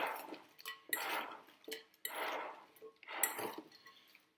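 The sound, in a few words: tossing halloumi Greek salad in a bowl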